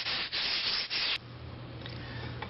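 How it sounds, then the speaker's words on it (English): Sanding block drawn lightly over a patched lath-and-plaster wall, giving three steady broadband rubbing strokes close up, then stopping into a quiet room hum. "I have a little block to help me sand, and just really lightly go over it to get a lot of the ridges off."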